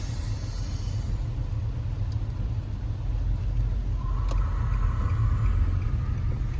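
Car driving along a road heard from inside, a steady low rumble of engine and tyres throughout with no talking.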